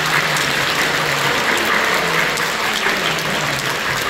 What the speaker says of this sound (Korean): 뜨겁게 박수로 찬양합니다